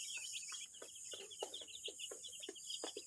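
Tiger-breed chicks in a small home brood give repeated soft peeps and clucks in quick bursts over about three seconds, fairly close and steady, with no talking.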